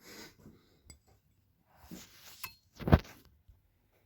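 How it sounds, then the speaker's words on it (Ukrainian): A spoon clinks against a cup a few times, with soft scraping and quiet breathing between the light metallic taps. "ложка там, тому помішаємо там."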